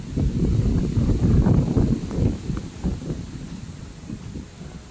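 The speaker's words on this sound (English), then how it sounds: "as you guys can hear the wind." Strong wind blows outdoors at a UK strawberry-picking farm in summer, a loud steady low rumble of gusts buffeting the microphone that eases slightly toward the end.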